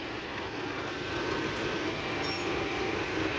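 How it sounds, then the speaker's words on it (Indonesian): A steady, broad rumble of a KRL electric commuter train rolling past near Karet and Tanah Abang stations in Jakarta, continuous and fairly loud throughout with no voices. "Lewat lagi KRL komuter lain tujuan Manggarai."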